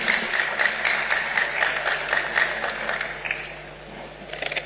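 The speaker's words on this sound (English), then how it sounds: "Please help me welcome with a warm round of applause" An audience at a memorial lecture applauds warmly to welcome a university vice chancellor. The dense, steady clapping fills the room, then thins slightly toward the end before a brief swell.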